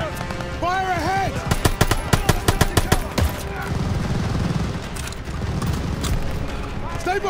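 Rapid machine gun bursts in the World War II shooter Call of Duty: Vanguard, a quick series of sharp close shots under shouted voices and a battle din.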